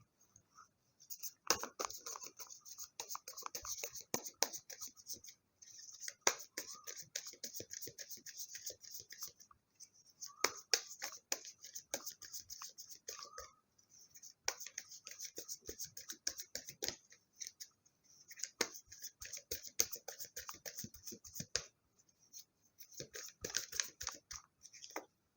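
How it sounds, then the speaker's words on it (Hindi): Tarot cards shuffled by hand in repeated bursts of crisp riffling and flicking, close and fairly quiet, with short pauses between rounds. "सफलिंग मैं आप लोगों के सामने ही करूँगी।"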